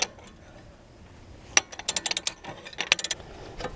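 A ratchet loosens a brake caliper slider pin bolt during a brake rotor change, giving quick bursts of sharp metallic clicking with short pauses between them, close up and loud against a quiet background.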